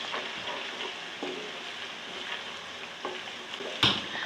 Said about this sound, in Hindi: एक मिनट भून लूँगी।